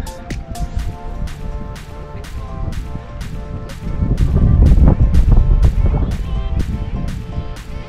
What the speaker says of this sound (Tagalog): Medyo malakas yung wind gust, ano?